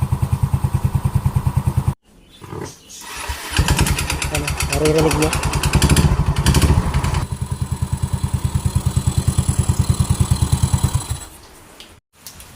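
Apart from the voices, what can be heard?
motor scooter engine idling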